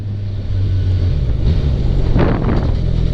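A 2017 Kawasaki Z1000SX motorcycle accelerating while overtaking a line of traffic, its engine rising in a steady low rumble under heavy wind buffeting, loud and close.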